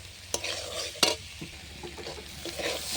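Potatoes, beans and kohlrabi fry in a pan with a soft sizzle while a utensil stirs and scrapes, producing a couple of sharp clinks against the pan and quieter scraping between them.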